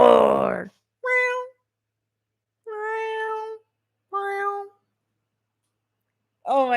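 A person vocally imitates a cat, giving a series of drawn-out meows separated by silent gaps, each voiced call clear and close, alternating with short bursts of speech.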